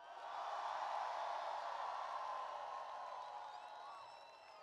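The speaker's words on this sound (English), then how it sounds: "I want everybody to give a big round of applause to Joe Biden." Crowd at a presidential campaign rally in Dayton cheers and applauds for Joe Biden, a dense, steady roar of clapping and whoops that fills the space and slowly eases off.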